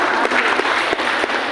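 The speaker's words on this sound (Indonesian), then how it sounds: "Tepuk tangan untuk beliau berdua" Dense, steady applause from a crowd at a speech by the head of the Malang district education office in Indonesia, sustained clapping throughout with no pauses.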